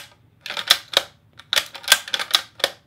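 A smooth rifle bolt worked back and forth, giving a close series of crisp metallic clacks and slides, about eight sharp bursts in uneven rhythm over a quiet background, with no talking.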